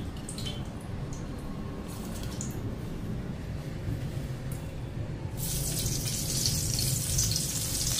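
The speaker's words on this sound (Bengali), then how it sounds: "বেগুনে হলুদ লবণ মাখা নিলাম, বেগুনটা ভেজে নিই" Eggplant coated with turmeric and salt fries in a pan at home, giving a continuous close sizzle under faint background noise, with a brighter, louder crackle rising in the last few seconds.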